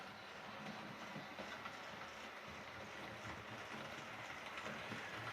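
A Hornby Star Class model railway locomotive runs steadily nearby, a continuous mechanical whir with faint rhythmic clicking from the track, no voices.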